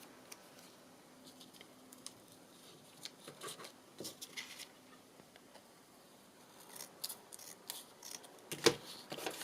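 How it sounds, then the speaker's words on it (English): Scissors snip to trim the bottom edge of a small craft piece, quiet scattered cuts and rustling of material spread across a mostly hushed stretch, with one sharper snip near the end. "I'll just see if I can get my scissors in and trim that bit off at the bottom"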